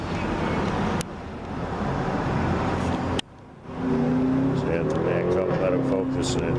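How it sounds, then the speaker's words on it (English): Road traffic cruises through a small town, a steady roar of passing cars with a brief dip, then a louder vehicle rising with a whining engine tone, heard alongside talk in the scene. "There's a lot of traffic cruising through this little town."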